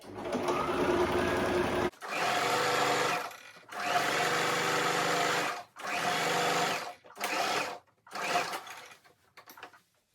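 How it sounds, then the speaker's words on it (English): A sewing machine stitches satin fabric for a pleated rose turban, running in about five steady whirring bursts separated by short pauses, loud and close with no talking. "Then you take it to your sewing machine and start sewing from here downward."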